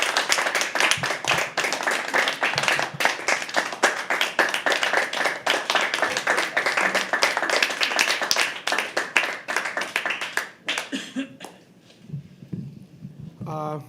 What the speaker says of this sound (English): Please keep clapping until he comes on stage.